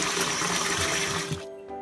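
Water pours into a bowl of rice set to soak for mochi, a steady splashing rush that cuts off abruptly near the end, close and alone.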